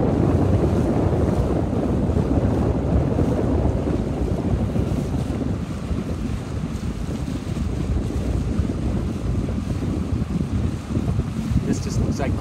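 Strong wind sweeps over open water around a 29er sailing dinghy, a steady loud roar and buffeting that fills the whole stretch without pause.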